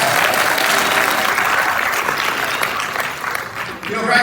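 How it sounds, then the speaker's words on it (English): A graduation ceremony audience at a nursing school's Fort Lauderdale campus breaks into loud, sustained applause, dense clapping filling the hall steadily throughout before easing slightly near the end. "Let's give them a round of applause."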